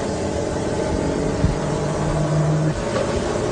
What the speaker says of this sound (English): the motor will start running